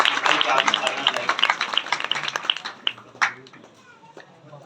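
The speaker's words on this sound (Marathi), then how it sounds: "जोरदार टाळ्या वाजवा." An audience claps for a prize winner at a felicitation event, a burst of scattered, fairly close hand claps that thins out within a few seconds, with a voice speaking over it.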